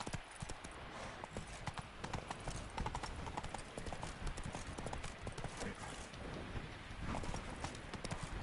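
Roach's hooves clip-clop in a fast, continuous galloping rhythm in The Witcher 3: Wild Hunt Blood and Wine, loud and close throughout with dense overlapping hoof strikes.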